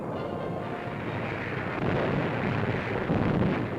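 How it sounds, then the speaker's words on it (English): Naval gunfire pounds during the Battle of Tarawa landing in 1943, a continuous roaring rumble of shelling and blasts that swells louder partway through, with no distinct individual shots standing out from the wash of sound. "naval gunfire mounts to an unbelievable crescendo of thunder, smoke, and fire"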